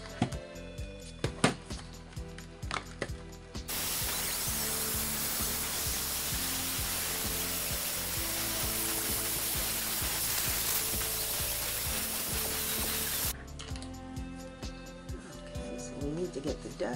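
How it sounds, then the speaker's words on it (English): Sanding the back edges of shimmery resin beverage coasters, a steady broadband abrasive hiss running unbroken for about ten seconds, with quieter handling noises and clicks before and after. "So what we need to do now is just sand these back edges and add our rubber bumps"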